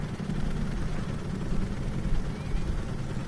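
Helicopter landing in Call of Duty: Cold War, a steady low rotor drone with broad rumble and wash, constant and fairly loud throughout the short stretch.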